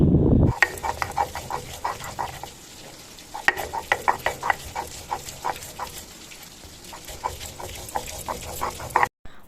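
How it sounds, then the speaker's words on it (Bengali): Cumin, ginger and green chillies being ground into a paste on a grinding stone, a steady series of rhythmic scraping, rubbing strokes, close and fairly soft, with no talking. "এবারে মশলাটা আমার মা বেটে নেবে তো এখানে আমার মা নিয়েছে জিরে আদা আর কিছু কাঁচা লঙ্কা"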